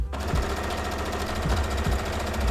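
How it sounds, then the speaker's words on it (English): Sewing machine running continuously as it stitches darts on corset pieces, a rapid steady mechanical chatter, close and fairly loud, with a couple of slight shifts in pace. "I'm going to just sew that on all of the pieces"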